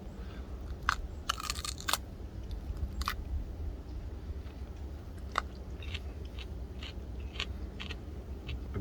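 A crisp bite into a fresh Sugar Rush Peach pepper gives a few sharp crunches, followed by quieter chewing crackles close to the microphone.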